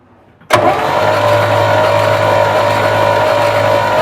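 A 1968 Chevy C10 pickup, parked for 16 years and with no spark, cranks with a sudden loud burst that settles into a steady, close droning whir after a moment of quiet.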